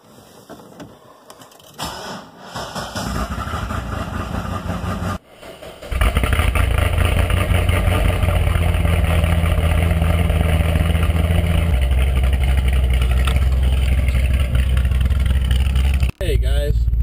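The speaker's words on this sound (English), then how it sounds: "let's go for like a 20-degree cold start" An engine cold-starts on a frigid 20-degree day in Northern Virginia, then settles into a loud, steady idle that drops in pitch partway through, with brief talk before the start.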